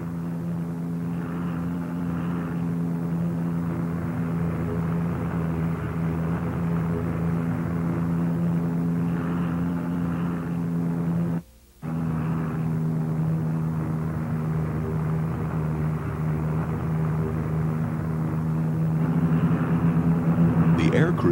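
A World War I airplane's piston engine drones steadily and loudly, a constant mid-range hum with a brief dropout midway, while a narrator talks over it.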